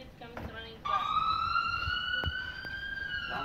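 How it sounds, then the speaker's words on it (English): Wailing ambulance siren rising after a brief voice and a short electronic tone, a sustained loud sweeping tone that holds steady for several seconds. "The ambulance is coming."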